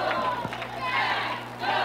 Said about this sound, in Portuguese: E aí a festa maravilhosa da torcida.